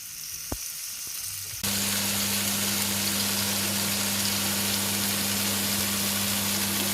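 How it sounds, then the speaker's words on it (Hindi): Chicken tikka skewers sizzle in a pan over low heat: a few faint clicks, then a sudden steady frying hiss with a low hum underneath, continuous and close for several seconds. "हम इसमें सीख को रखेंगे और हमने बहुत ज़्यादा गर्म पैन नहीं करना वरना हमारा चिकन ऊपर से जल जाएगा"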